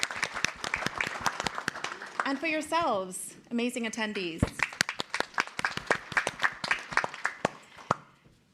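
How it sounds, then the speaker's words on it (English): A conference audience claps for panelists at a morning talent summit panel, a dense burst of applause rising and then thinning into scattered claps, heard under a moderator speaking through a microphone. "Let's give another round of applause for our amazing panelists this morning."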